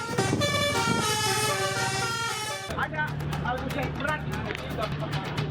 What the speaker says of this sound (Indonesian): Bus pariwisata yang melintas di Kota Depok juga kerap membunyikan klakson teloletnya